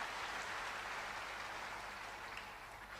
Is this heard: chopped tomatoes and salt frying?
no